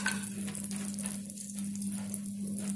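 Cashew nuts fry in a pan for egg biryani, giving a continuous close sizzle with fine crackling, steady and even throughout with no voices, a low hum running underneath.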